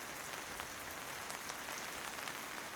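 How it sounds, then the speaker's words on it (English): Rain patters on canvas as a dense, even hiss of countless small drops, steady and fairly quiet, with no voices or other sounds over it. "The sound of rain surrounds and envelops"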